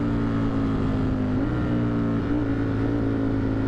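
A Ducati Streetfighter V4S on a race track gives a loud, continuous engine drone with steady harmonic tones that shift slightly in pitch as the throttle opens on a climb, heard up close with no voices.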